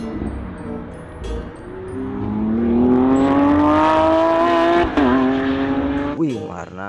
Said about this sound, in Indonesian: Wow, mobil apa ini guys? Mobil Lamborghini.